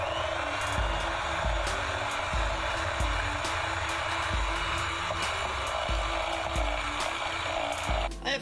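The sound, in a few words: electric mixer creaming butter and sugar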